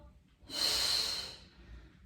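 A person draws in one loud, close breath, a broad airy rush lasting under a second, while working through a standing arm and shoulder exercise with weights in hand.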